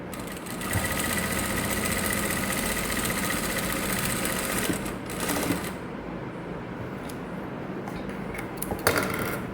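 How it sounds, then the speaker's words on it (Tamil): A sewing machine running a quarter-inch seam gives a steady, close mechanical whir and rapid clatter for about five seconds. Then it stops, leaving quieter handling noises and a brief final rattle. "இப்போ 1/4 இன்ச்சு தையல் நான் போடுறேன்."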